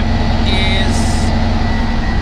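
A CAT D11 bulldozer engine works under load in second gear below full revs, giving a steady, loud, continuous low drone with a constant hum and no talk over it.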